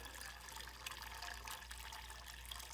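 Red water poured into a 5-gallon bucket holding about 4.5 gallons of 91-octane gasoline, a steady hissing liquid pour that runs evenly throughout, close and fairly quiet, with no talk.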